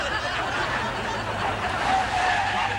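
A car brakes hard and pulls up on a hill, giving a brief harsh tire skid and scrape with engine noise, loud and close, lasting a few seconds.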